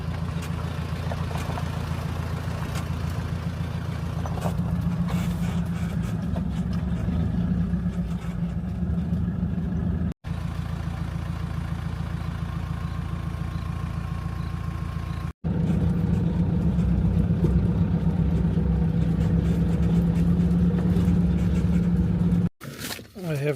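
A car engine rumbles at low pitch as the vehicle rolls into a campsite at night after a game drive in a KZN game reserve. The engine is steady and close, settling toward an idle, with brief cuts in the sound.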